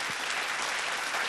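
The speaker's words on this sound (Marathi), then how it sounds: "जोरदार टाळ्या आपण मेघनासाठी वाजूयात आणि तिचं कौतुक करूयात." An audience at a Mangala Gaur event in Nashik applauds for a young girl named Meghana, with steady, dense clapping from a crowd that holds evenly for over a second without talk.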